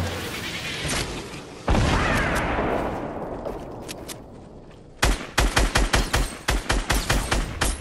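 Gunfire in the video game Fortnite: a single loud shot with a long fading tail, then a rapid run of about a dozen evenly spaced sharp shots, loud and close.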